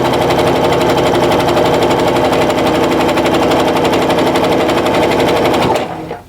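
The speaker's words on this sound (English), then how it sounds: "feed it through the sewing machine" A sewing machine stitches quilt fabric for flying geese blocks, its steady rapid needle chatter running loud and unbroken for nearly six seconds before cutting off abruptly.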